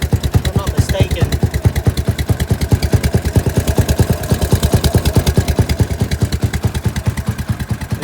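A 420cc Predator Harbor Freight engine on a pit cart, fitted with a glass pack muffler, idles close by with a rapid, even, thumping pulse that stays loud and steady throughout.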